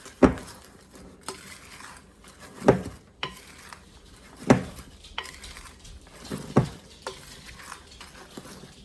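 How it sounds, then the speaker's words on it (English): A utensil stirs dry almond biscotti ingredients, flour and baking powder, in a bowl. It makes a steady run of clinks and taps against the bowl, roughly one each second, over faint scraping, with no talking. "We're going to mix all of the dry ingredients."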